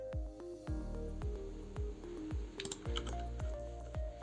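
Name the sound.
computer keyboard key press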